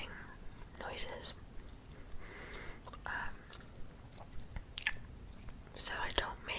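Gum being chewed close to the mic with soft wet smacks and clicks in bursts, alternating with quiet whispered talk.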